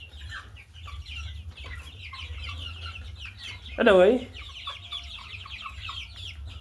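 Chickens on a poultry farm cluck softly and steadily in the background, with one louder, close squawk near the middle; a low hum runs underneath and a person speaks briefly.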